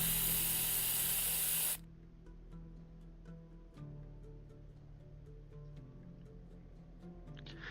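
A can of red spray paint hisses in a loud, steady burst for about two seconds, then cuts off, leaving quiet background music in the Arknights scene.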